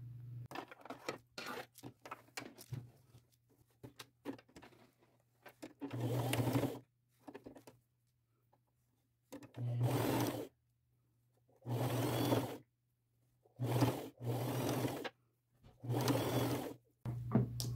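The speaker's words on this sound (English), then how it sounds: "And I will use a straight stitch right down the center" A sewing machine runs a straight stitch down a ruffle sleeve in several short bursts of close mechanical whirring, separated by quiet pauses.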